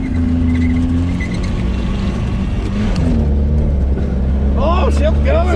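A Datsun mini truck engine lugs at low revs in second gear, a loud, steady, rough drone heard close up from inside the cab, with people talking over it.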